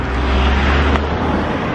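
A car passes along a beachside road, a steady loud broadband rush of tyres and engine close by, holding level for the whole moment without a clear rise or fall.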